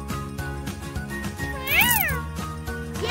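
Cartoon kitten meows in the Kitty Meow Meow City Heroes mobile rescue game, a bright rising-and-falling meow over a bouncy game music loop with light jingles.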